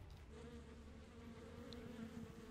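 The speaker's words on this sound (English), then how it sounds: "his drunk meter is bees" A bee swarm effect from a Smite video game skin makes a continuous soft buzzing drone. The humming wavers steadily throughout at low volume.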